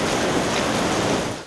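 Heavy rain pounds down in southern Taiwan during a torrential rain warning, a loud, dense, unbroken roar of falling water in a brief burst with no voices.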